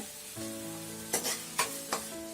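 Tomatoes and curry leaves sautéing in a pan for mutton egg kothu parotta: a soft steady sizzle with several sharp scraping strokes of a spoon stirring the pan, and a faint tonal hum underneath.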